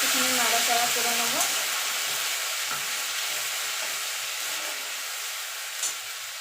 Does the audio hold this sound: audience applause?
no